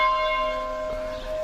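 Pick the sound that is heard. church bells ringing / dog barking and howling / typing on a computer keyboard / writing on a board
church bells ringing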